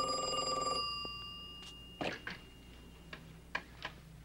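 A telephone rings after a call is dialed, with a harmonic ring tone at the start followed by several quiet clicks and ticks, heard alone and close.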